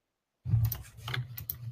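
Keyboard keys clicking in an irregular run of quick taps as someone types, close and fairly quiet, with no talking over it.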